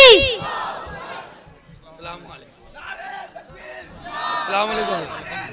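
A crowd shouts back a loud chanted slogan in response to a Naara-e-Takbeer call at a Sunni religious gathering for Eid Milad-un-Nabi, voices swelling in two bursts with babble between.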